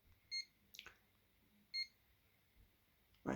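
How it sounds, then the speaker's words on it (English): Short electronic beeps from an Alcatel BC2 mobile phone ringtone melody, a few faint tones spaced apart with quiet gaps and a louder click near the end, heard alone without talk. "Right, there's your ringtones."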